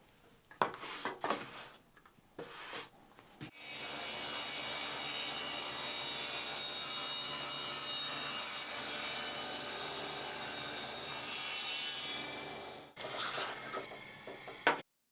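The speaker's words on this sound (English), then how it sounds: "this is the jig for cutting thin strips of wood" A saw with a thin-strip jig cuts through wood in one long, loud, continuous pass lasting several seconds, framed by brief knocks and handling noises before and after.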